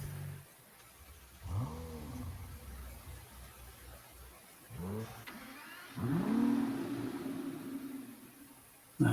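A McLaren car in Fortnite revs its engine in three separate bursts. Each rising, swooping engine roar fades back to a quiet background hum, and the last one is the longest.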